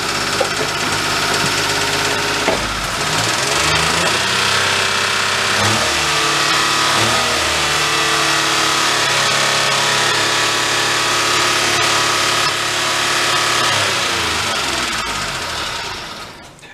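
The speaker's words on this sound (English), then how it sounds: "Hit the gas pedal a couple times." A clapped-out Daihatsu mini truck with a blown engine idles roughly and revs as the gas pedal is pressed, loud and close, with the pitch climbing and falling across several throttle blips.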